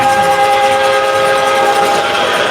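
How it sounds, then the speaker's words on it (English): Goal horn sounding like a train horn blares in a hockey arena during a youth U15 game, loud and sustained for the whole stretch over steady crowd and rink noise. "As the train horn comes out."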